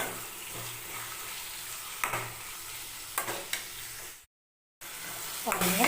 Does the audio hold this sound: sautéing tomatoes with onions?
yes